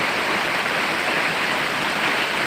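Heavy rain pours in Sirajganj after a heatwave, a dense, loud, unbroken wash of noise that fills the whole stretch without pause.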